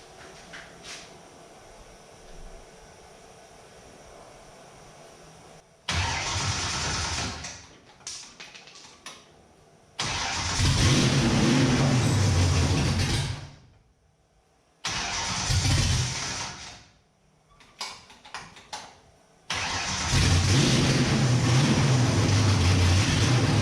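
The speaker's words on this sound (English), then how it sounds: "see if we got running engine" A 1967 Mustang being prepped for road racing, with a loose fuel line and low fuel pressure, cranks through several loud bursts separated by pauses. It then catches and runs steadily near the end.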